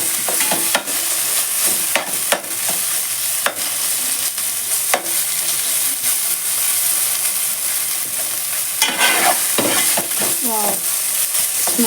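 Ginger garlic paste fries in a pan for brinjal dum biryani, giving a constant bright, hissing sizzle close up, punctuated by intermittent scrapes and taps of a spoon stirring it.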